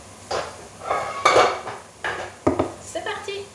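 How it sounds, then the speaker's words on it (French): A frying pan is taken out for roasting crispy potatoes, giving several clattering metal knocks and scrapes of cookware against other pans and utensils. The impacts are close and fairly loud, coming in separate bursts with no talking. "Maintenant, je vais sortir ma poêle"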